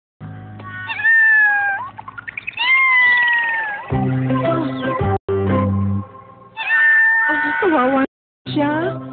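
A cat meows repeatedly, loud and close, with drawn-out rising and falling cries broken by short pauses.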